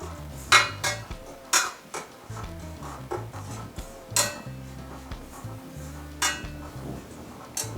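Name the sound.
mixing coconut with chili and coriander powder in pan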